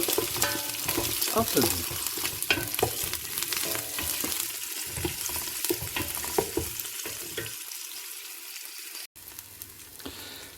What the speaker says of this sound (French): je mets mon huile d'olive et mes oignons que je vais faire revenir